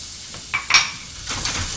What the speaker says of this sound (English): We're going to sweat some onion.